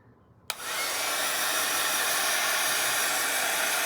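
A hair dryer switches on with a sharp click and then blows a steady, loud, even whoosh of air to dry a watercolor painting of autumn leaves, running alone without pause.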